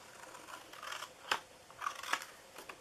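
Scissors snipping through a paper treat box for a bunny craft, a few quiet crisp cuts in irregular bursts, close and alone with no talking.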